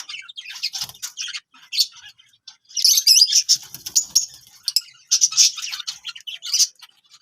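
Parrots in a colony give rapid, bright chirps and squawky calls in irregular bursts, close and lively, with a brief flutter of wings among the calls.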